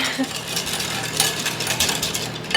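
Whipped coffee is beaten by hand with a whisk in a bowl for a pumpkin cream cold brew, giving a steady, close run of quick light clinks and scraping taps with no voices.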